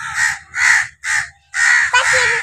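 Crows caw loudly from trees overhead in a run of harsh, drawn-out calls, close and clear with short gaps between them.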